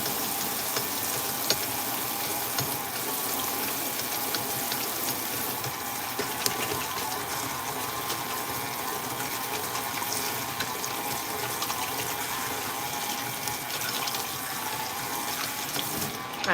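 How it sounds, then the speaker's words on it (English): Tap water runs steadily into a kitchen sink while hands are washed mid-baking, a close, continuous hiss and splash with small splatter changes throughout and no talk. "I'm going to wash my hands really quick."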